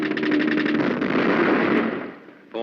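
Rapid bursts of aircraft cannon fire from Spitfire interceptors shooting at flying bombs, a loud rattling volley for about two seconds that fades out, followed by a short loud burst at the end.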